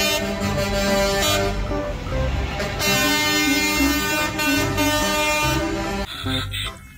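A toy cement mixer truck's horn toots loudly in sustained, shifting tones that run almost the whole clip and drop off briefly near the end, with no talking.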